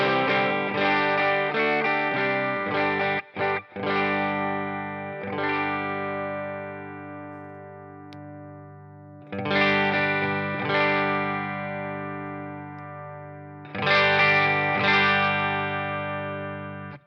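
An electric guitar plays through the FRFR output of a Quilter Toneblock 202 amp, with heavy gain and strong presence. Distorted chords ring and sustain loudly in three bursts separated by short pauses, with no talking.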